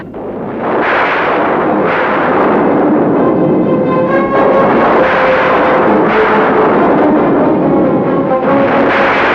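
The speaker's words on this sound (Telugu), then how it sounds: "ఆ బాంబు కాల్చదరా మురళి" A bomb goes off in a Telugu feature film: a loud, sustained roaring blast with rolling booms and rumbling surges that carry on for several seconds.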